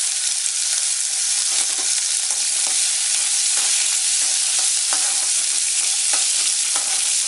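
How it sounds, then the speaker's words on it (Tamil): Seeded dried red chillies and small shallots fry in hot oil for green dhal, producing a loud, dense, continuous sizzle close up with scattered crackles and pops throughout. "இந்த வரமிளகாய் வந்து ஒரு 4-5 மிளகாய் வந்து விதையெல்லாம் எடுத்துட்டு வச்சுருக்கேன், அதை போடுறேன்"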